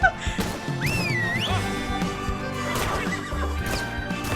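Horse in a video game neighing loudly, a long rising-and-falling whinny near the start, with clattering game sounds continuing underneath.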